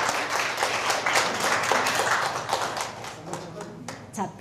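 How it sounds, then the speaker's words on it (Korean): An audience at a married couples' seminar claps in a brisk burst that thins into scattered claps toward the end. "박수 한번 칠까요?"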